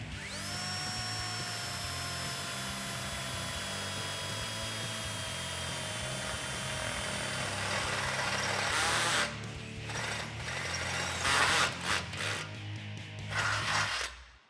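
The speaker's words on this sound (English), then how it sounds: "We're just gonna go up through this hole and just drill all the way through." A high-pitched electric drill whines steadily for several seconds, then grinds and chatters in bursts as it bites through a Jeep Wrangler JK's steel frame, with no talking.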